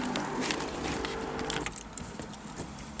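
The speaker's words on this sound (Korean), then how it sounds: "연료 펌프로 채우는 소리입니다" A fuel pump primes the fuel system of a Triumph Spitfire roadster before starting, with a quiet, steady whirring buzz for about a second and a half, then softer clicks and mechanical ticks.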